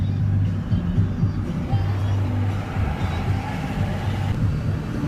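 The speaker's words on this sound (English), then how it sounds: "Those were some four-wheelers." Four-wheeler ATVs drive past near a lake, a steady low engine rumble and road noise that holds loud throughout without any clear rise or fade.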